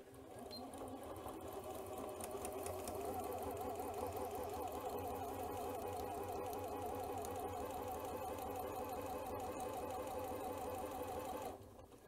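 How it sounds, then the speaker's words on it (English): A Janome C30 sewing machine stitches a dress seam forward and then in reverse, its motor running in a steady, close, continuous whir for about eleven seconds before stopping. "I'm going to start sewing and then I'm going to do a reverse stitch."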